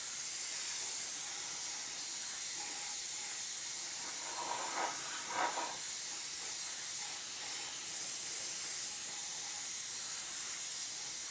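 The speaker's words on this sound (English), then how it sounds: "So simply spray it across the model, like so." A long, steady hiss of aerosol spray paint on a plastic 1/72 Halifax model runs close to the microphone without pause, with brief faint tapping in the middle.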